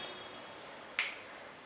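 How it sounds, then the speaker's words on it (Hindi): A single crisp finger snap rings out once, close and loud, over a quiet room with faint background hiss, during an acting exercise. "एकदम चुटकी बजाते ही होना चाहिए"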